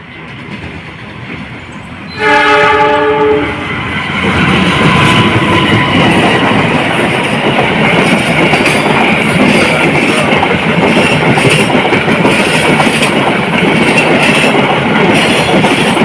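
A loud train horn blasts briefly as the Sembrani passenger train arrives at Cibatu station, Indonesia, then the heavy, continuous roar and clatter of the train passing close by.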